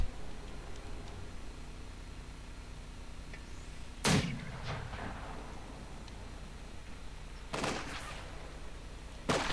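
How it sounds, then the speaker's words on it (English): Mortar rounds fire and land in a World War II real-time strategy battle, with two or three sharp, loud booms spaced several seconds apart over a quiet low background, and no voices. "Mortars heading up here"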